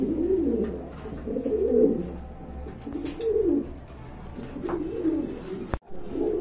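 Pigeons at a pigeon farm coo in repeated low, throaty phrases close by, with a sharp brief knock near the end.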